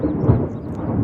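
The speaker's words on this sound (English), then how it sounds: "It's lightning. I got to get out of here, but the storm is about to be here." Thunder from an approaching storm rumbles low and heavy, a deep continuous roll filling the brief moment, fairly loud with no talk.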